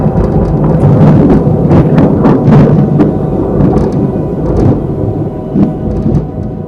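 Thunder during a summer storm in Montreal: a long, loud, rolling roar that swells and crackles continuously, overpowering and distorting the recording, with bursts of sharper cracks along the way.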